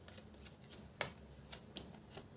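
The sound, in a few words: shuffling tarot cards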